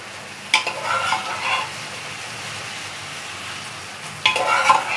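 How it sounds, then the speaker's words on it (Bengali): Pressure-cooked chana dal is stirred in a pan with ghee: a spoon scrapes in short bursts at the start and again near the end over a steady, close, gentle sizzle. "আমি প্রেশারে সেদ্ধ করা ছোলার ডালটা অ্যাড করে দিয়ে নাড়াচাড়া করে নিয়েছি"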